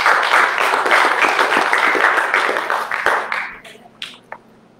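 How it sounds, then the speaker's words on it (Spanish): A church congregation applauding at the close of a sermon, a loud, dense spatter of clapping that thins out and stops, leaving a few last scattered claps. "Dele fuerte el aplauso al Señor"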